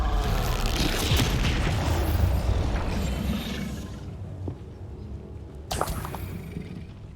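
The Bombarda spell explodes in the video game Hogwarts Legacy: loud booming blasts with crumbling debris and a long rumbling decay, followed by a sharp impact near the end.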